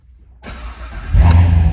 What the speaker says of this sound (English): there's your NPP exhaust. That sounds fantastic